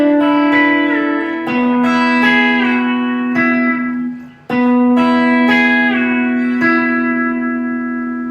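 A B-bender electric guitar plays a phrase moving from position 4 back to position 3, with loud sustained ringing notes and bends, repeated plucked attacks with echo and reverb, one brief dip in the middle and no talking.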